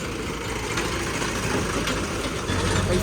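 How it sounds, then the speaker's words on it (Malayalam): A steady, rumbling tractor engine drones throughout as it passes through a village, low and continuous, moving slowly nearby, with no clear rise or fall. "ഗ്രാമത്തിലൂടെ ഒരു കാളവണ്ടി അല്ല ട്രാക്ടർ വരുന്നൊക്കെ"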